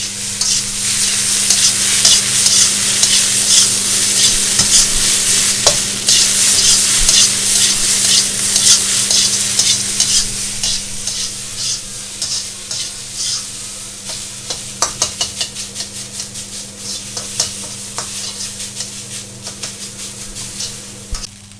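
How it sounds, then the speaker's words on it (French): Thai fried rice stir-fried in a pan, a steady loud sizzle with repeated scraping and tossing strokes of the utensil, continuous with no talk. "Et on finit de faire sauter."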